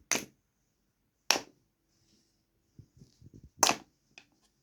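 Sharp plastic knocks from hitting blocks in the Buz Tuzağı ice trap board game, three distinct cracks spaced apart, with soft rattling of pieces between them and no talk.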